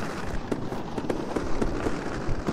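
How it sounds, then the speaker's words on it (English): Fireworks from an Unreal Engine 4 particle simulation crackle and pop in a dense, continuous stream of small bursts, fairly loud and with no voices. "that's a lot of fireworks going on here"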